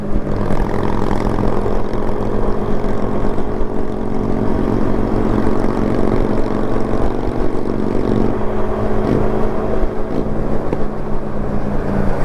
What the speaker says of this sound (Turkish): Egzoz sesi geliyordur inşallah size.